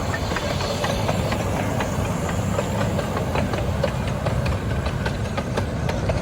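A Romney Hythe and Dymchurch Railway locomotive named Samson runs loud and close, with a steady dense engine rumble and faint regular chuffing beats throughout.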